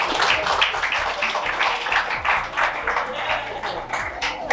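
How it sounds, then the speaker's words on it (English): Students in an audience at an English academy speaking competition clap for a speaker, a dense, continuous round of many hands with voices talking underneath. "Clap for Image, guys."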